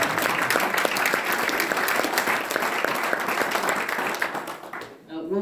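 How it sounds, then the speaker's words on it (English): Dense audience applause fills the room at a community store update meeting, steady and loud for about five seconds before cutting off abruptly, with a voice starting right at the end. "that's an applause line too."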